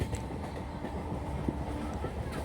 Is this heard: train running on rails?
yes